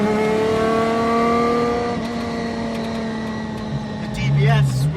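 A Lancia Stratos pulls away on open road, its engine note rising in a strong, steady drone of layered harmonics heard from close by, then shifting pitch toward the end as the gear changes.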